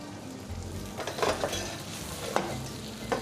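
Butter foams and sizzles in a hot pan with garlic and parsley, a steady frying crackle with stirring scrapes and a few louder spatters, close and with no talking.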